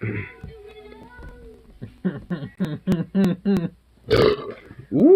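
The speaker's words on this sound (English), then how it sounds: "Man, that was a burp." A loud, close burp from a man celebrating a new union contract with drinks, a long croaking belch broken into rapid pulses, followed by a short exclamation and a chuckle.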